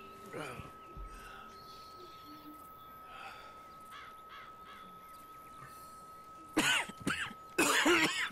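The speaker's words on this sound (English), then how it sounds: "Arthur's coughing a lot" In Red Dead Redemption 2, the character Arthur coughs harshly several times, with the loudest bursts near the end, over faint game ambience and crow caws.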